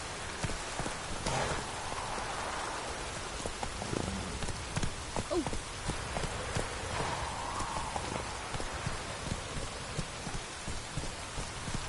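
Rain falling in The Witcher 3, a steady hiss of drops on surfaces with scattered louder splashes and faint low rumbles, constant throughout and without speech.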